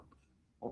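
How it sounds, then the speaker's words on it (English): A single short, loud cough bursts out at the very end after near silence, preceded by a faint throaty breath or rasp, close to the listener with no talking. "Do you think that causes coughs when you stop?"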